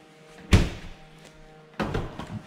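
A Samsung four-door refrigerator's doors shut with two solid thunks about a second apart, the first sharper and heavier, the second followed by a softer rattle, close by in a quiet room.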